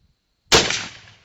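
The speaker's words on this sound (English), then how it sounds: "Let's see if we can shoot every single one of these off." One sharp outdoor rifle shot cracks suddenly after near silence and rings out in a decaying tail, aimed at lined-up bowling pins and fire extinguishers with a hunting rifle fitted with a day/night digital scope.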